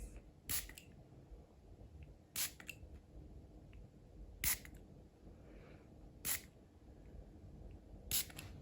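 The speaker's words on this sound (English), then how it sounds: "so I'll just spray this around you a few times" A spray bottle hisses in five short, evenly spaced bursts, each pump crisp and close, with quiet room tone between them.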